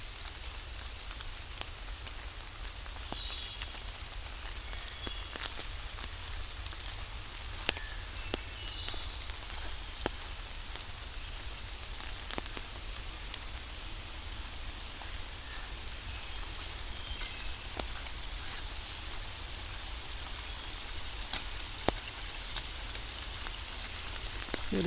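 Rain falls steadily in Wissahickon Valley Park, Philadelphia, a soft, even hiss with scattered drips tapping nearby surfaces, steady throughout with no voices.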